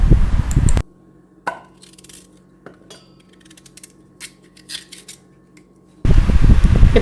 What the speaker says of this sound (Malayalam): ഇനി നമുക്കിങ്ങനെ ചെറിയ ചെറിയ കഷ്ണങ്ങളാക്കി നമുക്കിത് ഈ പാത്രത്തിലേക്ക് അരിഞ്ഞെടുക്കാം